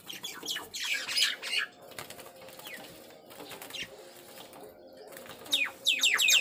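A small bird flaps its wings and taps against a mirrored glass pane, giving bursts of fluttering and light knocks mixed with a few short chirps. The sounds come close and fairly clear, with quieter gaps between them.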